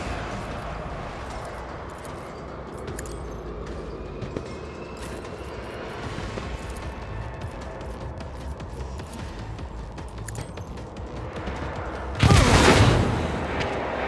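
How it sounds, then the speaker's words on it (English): Grenades exploding during a battle in Warhammer 40,000: Rogue Trader, with distant booming and crackling combat, then one loud, close blast near the end. "Oh, they've got grenades. That's why they're exploding."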